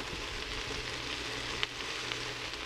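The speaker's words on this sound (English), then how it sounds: "The spinach is wilting, and I'm stirring it to incorporate all the herbs." Spinach with herbs wilting in a hot pan, a soft, steady sizzle with a couple of faint scraping taps from stirring, quiet and close.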